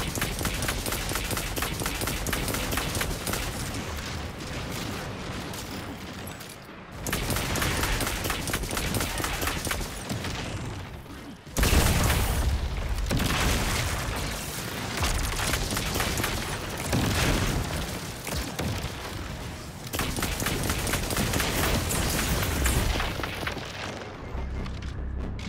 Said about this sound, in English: It's that sidearm. Fucking shoots rockets.